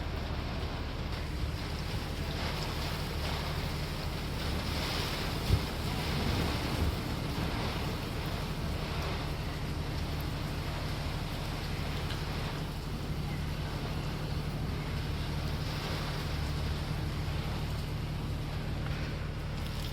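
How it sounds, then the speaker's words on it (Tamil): Heavy rain pours steadily outdoors, a dense continuous wash of noise with a low rumble, holding even and unbroken throughout with no voices. "காய்ஸ் வெளியே பார்த்தீங்கன்னா மழை வந்து இன்னும் நிற்கவே இல்லை"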